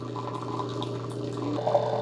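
A Keurig K-Iced coffee maker in descale mode runs water through its system, giving a steady low hum with a faint trickling, moderately quiet and continuous throughout, with no voices.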